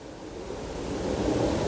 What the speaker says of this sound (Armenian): մեջը ջուր կլցնեմ, սառը ջուր